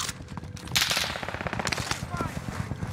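An Owen submachine gun in a video game fires in rapid automatic bursts, close and punchy, with shots clattering in quick runs. Someone talks over the shooting.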